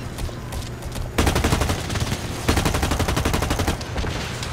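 Rapid automatic gunfire from a gun in the video game BlackLight rattles in dense, fast bursts, with a brief pause between two sustained volleys, loud and close.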